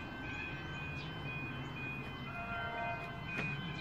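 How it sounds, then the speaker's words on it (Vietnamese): Train pulling into a Melbourne suburban station, with a steady broad rumble and faint high squeals from the wheels or brakes, heard close and continuous on the platform. "Rồi xe lửa chuẩn bị tới rồi, xe lửa đến rồi."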